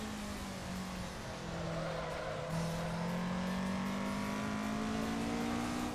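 Car engine in Assetto Corsa on the Akina downhill course, held in third gear, a steady droning hum that slowly climbs in pitch as the car gathers speed, with no talking over it.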